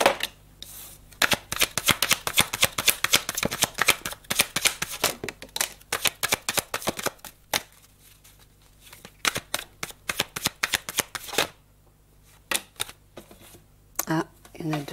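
Tarot cards shuffled by hand for a three-card draw, a rapid run of crisp riffling flicks and slaps, close and busy, thinning into scattered snaps toward the end, with a person talking over parts of it.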